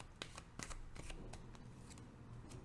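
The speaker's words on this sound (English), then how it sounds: "One more shuffle." Tarot deck being shuffled by hand, a quick series of crisp riffles and card slaps close up and quiet, with no talking.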